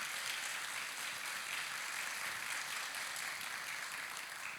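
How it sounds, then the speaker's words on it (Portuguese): Congregation applause at a church sermon, a steady dense wash of many hands clapping throughout, fairly faint and distant with no talk over it. "Aplauda ele, esse é Jesus."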